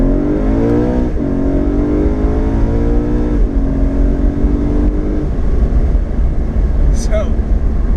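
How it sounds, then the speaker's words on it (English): BMW M3 V8 accelerating hard in first gear, heard from inside with the windows down: a loud, rising engine roar with a gear-change dip, then steady road and wind noise. "I'm gonna give you guys a little pull with the windows down, and hopefully you guys can hear it. We're in first gear."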